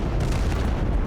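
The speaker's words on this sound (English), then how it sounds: "the rocket artillery is just insane" Rocket artillery explosions in Total Conflict: Resistance, a brief loud stretch of overlapping booms and rumbling blasts, heavy in the low end, with no voices.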